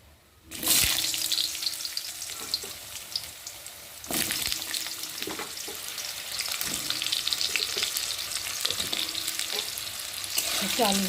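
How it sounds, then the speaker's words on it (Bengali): Potatoes dropped into hot oil with whole cardamom and cinnamon, erupting in a loud sizzle that stays strong and crackling, broken by several spatula knocks and stirs, close and without speech. "একটু আলুগুলোকে লাল লাল করে ভেজে নেব।"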